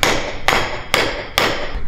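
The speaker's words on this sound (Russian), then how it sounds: "Надо бить молотком." Four sharp metallic hammer strikes on a 32 mm wrench, evenly spaced about half a second apart, each ringing briefly, loud and close with no talk.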